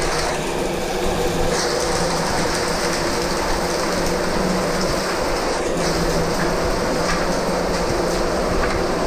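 A waterfall along a hiking trail in Red Bluff gives off a steady, loud, unbroken rush of falling water that fills the whole stretch with no pauses.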